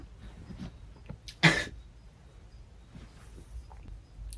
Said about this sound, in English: Sorry, I had to sneeze in the middle of that.